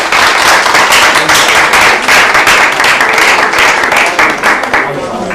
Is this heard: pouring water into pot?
no